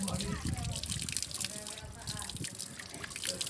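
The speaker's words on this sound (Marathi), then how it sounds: "हे पाणी चालूच असतं कंटिन्यू चालू पाणी कारण वरतून धरणातून येतो" Water from a dam runs continuously along a village channel near a cashew orchard, a steady close rushing trickle heard under people talking throughout.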